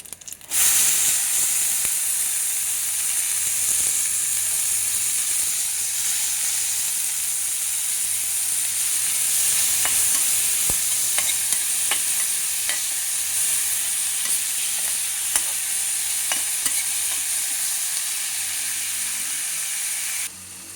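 Cumin, onion and green chilies sizzle steadily in hot oil for a masala bhindi dish, a close continuous frying hiss broken by repeated scraping clicks of a spoon stirring the pan.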